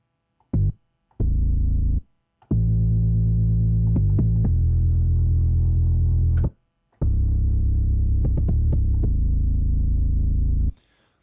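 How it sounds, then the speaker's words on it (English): A blooming synth bass preset plays in an EDM production session: deep, throbbing sustained bass notes held for a second or several, separated by brief silences and short plucked hits, with no talking. "Blooming bass. That sounds fun."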